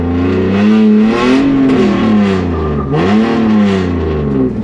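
A car engine revs hard and loud nearby, its pitch rising and falling in surges as if the car is being pushed through a slide.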